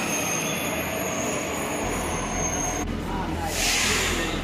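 A Delhi metro train at a station, heard as a steady rumble of the rail car with a rising hiss and squeal near the end, close and moderately loud.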